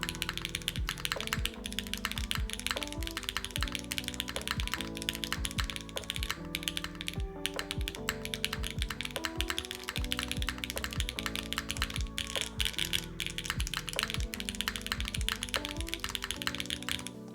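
Keys on a newly built Sonnet mechanical keyboard are typed in rapid, steady bursts, close and crisp, while background music plays underneath throughout.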